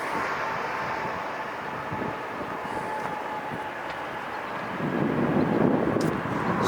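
A KLM airliner passes at LAX as a distant, steady jet roar that swells louder toward the end, heard from outdoors with no talking.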